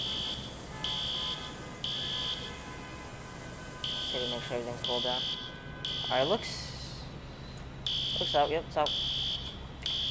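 In EmergNYC, a repeating electronic fire alarm beeps in steady pulses while someone talks over it, with short tonal chirps cutting through now and then.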